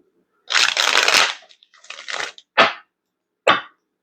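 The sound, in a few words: shuffling tarot cards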